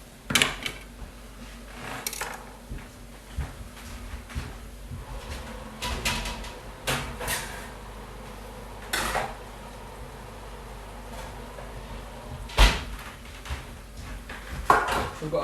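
Oven opened and ingredients taken out in a kitchen, with scattered clatters of pans and utensils, cupboard or door thumps and shuffling, fairly close and interspersed over a quiet background.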